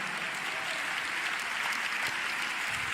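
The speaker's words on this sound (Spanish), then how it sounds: "Dele un aplauso al Señor en esta hora." A church congregation claps steadily for the Lord during a service, a dense, continuous wash of applause with no talking over it.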